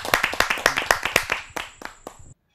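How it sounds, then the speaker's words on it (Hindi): A small audience claps to welcome a poet at a Hindi poetry gathering: loud, close, rhythmic claps at first, thinning to scattered hits before stopping abruptly. "आइए जोरदार तालियों से स्वागत करते हैं।"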